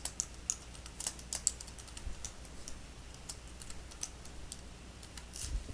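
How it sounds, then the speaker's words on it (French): A new password is typed on a computer keyboard as a quiet, irregular stream of light key clicks with a few sharper taps, close and alone. "je vais mettre un nouveau mot de passe"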